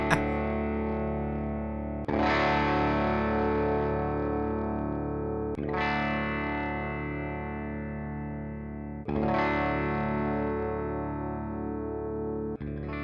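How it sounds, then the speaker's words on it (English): Electric guitar tuned to open D strumming an open chord through distortion and effects, three ringing strums spaced about three to four seconds apart, each sustaining and slowly decaying, loud and alone. "he's tuned it to open D. All right, so it's going to be an open chord."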